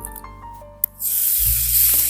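Shawarma meat hits a hot frying pan and breaks into a loud, steady hiss of sizzling after a short quiet stretch with a faint clink, close by and with no talk.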